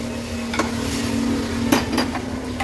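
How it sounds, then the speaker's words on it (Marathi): A yogurt and gram flour batter goes into hot tempering in a pan, giving a soft sizzle with a few utensil taps and stirring scrapes over a steady hum. "आता आपण हे दही आणि बेसनचा घोळ जो केलाय तो ऍड करणार आहोत"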